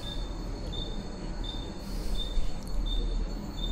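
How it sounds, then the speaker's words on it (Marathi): Aboard an Asangaon-bound Mumbai local train leaving Nahur station, the wheels rumble continuously underneath while a thin, high squeal repeats at regular intervals through the carriage. "नाहूर स्टेशनला ट्रेन लावली आसनगाव 12:49ची"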